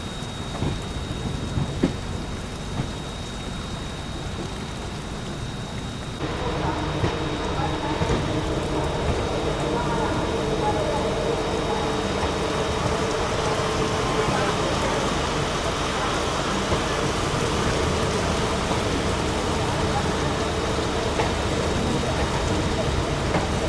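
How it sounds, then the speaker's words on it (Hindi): Heavy, steady rain pours down throughout during a journey on the Kota Patna Express train, a dense hiss of drops on surfaces, with low rumbling in the background. "ये देखो एकदम तगड़ी बारिश हो रही है"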